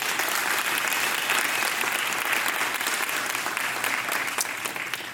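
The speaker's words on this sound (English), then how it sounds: "Let's give another round of applause" A large audience at an airport business association's annual meeting applauds steadily for newly elected board members, a dense, continuous round of clapping that holds for about five seconds and fades slightly at the end.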